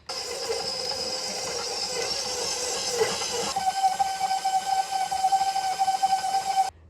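A stand mixer creams two sticks of butter with a cup of sugar for sugar cookie dough. It makes a steady, loud motor whir, and a sharper whine rises partway through. No one speaks.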